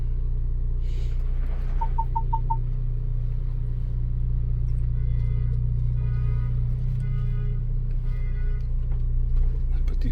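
A Ford Bronco engine idles steadily after starting, a low, even rumble close by, with a quick run of four short electronic beeps early on and faint clicks later.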